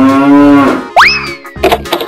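A cartoon cow gives a long, loud, steady moo that trails off, then a springy upward boing and a few quick plops sound, close and clear with nobody talking.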